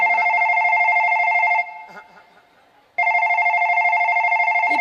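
A mobile phone rings loudly with a steady electronic ring tone, stopping for about a second and a half before starting again.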